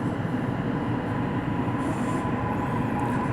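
Steady rumble and rolling noise inside a Toei Mita Line subway car at the Nishi-takashimadaira terminus end, continuous and loud throughout with no talking.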